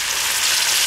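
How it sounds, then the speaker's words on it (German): Black Angus beef rouladen sear in a Dutch oven, giving a steady, loud, close sizzle of frying meat that holds evenly for the whole second with no voices. "Das reicht vom Anbraten her."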